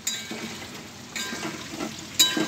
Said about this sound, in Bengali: আলুগুলো ভেজে দেবো।